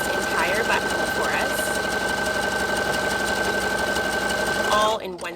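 A sewing machine stitching a one-step buttonhole, a steady loud motor hum with fast needle chatter running continuously up close, then cutting off near the end.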